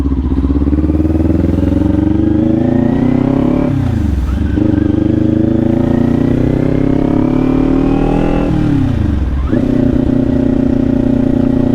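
A motorcycle exhaust rumbles steadily while riding through the city at night, with two brief drops in revs as gears shift, loud and close throughout.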